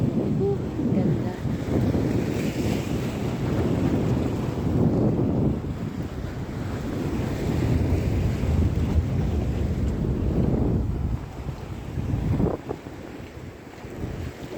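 Seaside wind buffeting a microphone on a breezy shore walk, a steady broadband rush with low rumble and possible distant water, continuous throughout with brief dips.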